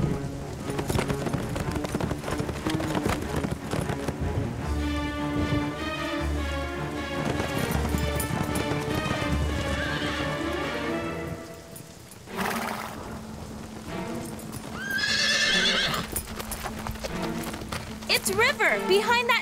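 Animated horses pound along in a cartoon, their rhythmic hoofbeats thudding under music and voices. A loud whinnying neigh cuts through later.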